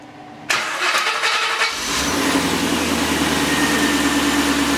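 A Chevrolet Corvette's starter whirs for about a second before the engine catches and settles into a loud, steady idle, recorded close up with no talking.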